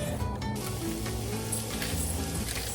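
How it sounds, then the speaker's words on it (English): Ground beef frying in algae oil in a pan, a steady close sizzle and crackle with some stirring, no talking. "Putting in some ground beef."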